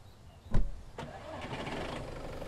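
A car engine in the survival game Mist Survival cranks with a sharp thump, catches, and settles into a steady idle that stays close and moderately loud.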